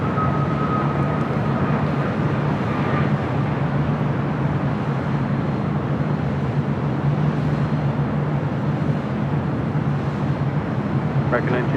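A fixed-wing airliner takes off from runway 7 left at LAX, a steady, broad engine roar heard from a distance at an even level throughout, with a faint tonal hum in the first seconds.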